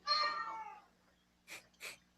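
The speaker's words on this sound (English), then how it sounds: "Your cat seems very bad, very mad." An upset cat meows loudly in a long, wavering cry, then gives two shorter, breathy, hissing sounds after a pause, close by against a faint steady hum.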